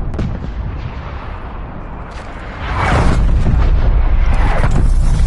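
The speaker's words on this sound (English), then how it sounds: "Artillery inbound." Artillery strike in Call of Duty: Black Ops Cold War, a dense rumbling barrage of booms that swells louder about halfway through and keeps pounding steadily to the end.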